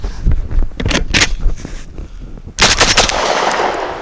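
A Citadel RS-S1 shotgun fires number 6 shot dove loads in two sharp, loud blasts a couple of seconds apart, each followed by a short ringing echo.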